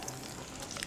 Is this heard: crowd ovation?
no